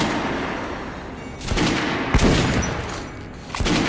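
Gunfire at a shooting range in the video game Metro: Last Light, several loud sharp shots in quick bursts with echoing tails, close and alone without talk.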